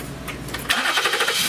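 A 2011 Ford Edge with coil trouble and a misfire cranks and catches, its engine starting up close by with a sudden broadband roar that settles into a steady run after a brief quiet lead-in.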